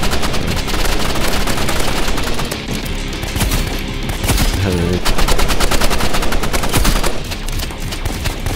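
Rapid automatic gunfire in the Roblox Rivals shooter game, loud and nearly continuous bursts of shots filling the whole stretch with only brief dips between volleys.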